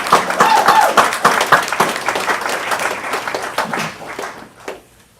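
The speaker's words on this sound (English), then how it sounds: "Let's give a better round of applause to Brother Lee" An audience at a community speakers' bureau event on homelessness applauds a speaker, a loud burst of many hands clapping that thins out and fades to a few last claps near the end.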